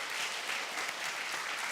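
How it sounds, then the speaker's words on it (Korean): A congregation claps during an awards presentation at a Sunday morning church service, giving a dense, steady wash of applause from many hands that stays even throughout. "우리 박수 부탁드립니다."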